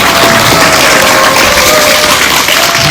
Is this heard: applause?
yes